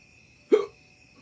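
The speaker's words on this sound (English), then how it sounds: "There's the hiccups." One sharp, close hiccup from a person who has just eaten a 7 Pot Caramel chili pepper, a brief voiced gulp in an otherwise quiet room.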